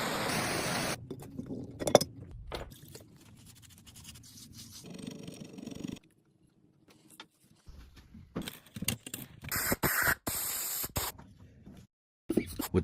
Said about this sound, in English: I spray the aluminum halves with a powerful foaming engine cleaner